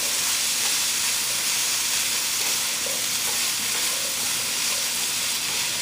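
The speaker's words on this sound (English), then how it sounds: "So we're just going to stir fry them where they're not going to be cooked all the way through." Cassava pieces stir-frying in a pan give a steady, loud broadband sizzle, continuous and close, with faint scraping from stirring and no talking.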